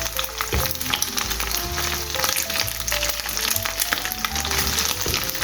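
Scrambled egg is stir-fried into tuna fried rice with lemongrass and kencur. The pan gives a loud, constant sizzle, broken by repeated scraping and clanking of the spatula as it stirs, with no voices.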